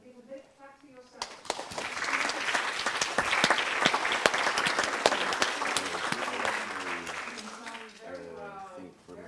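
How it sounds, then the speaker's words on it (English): Applause from an audience at a talk on a green and just transition, a dense burst of clapping that swells, holds steady and fades, with talk underneath at the start and end. "Then give a big clap to yourself."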